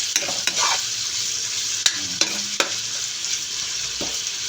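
Onion and garlic sizzle steadily in a hot pan, a continuous bright crackle with a few sharp stirring knocks and scrapes of the utensil, close up and with no voices.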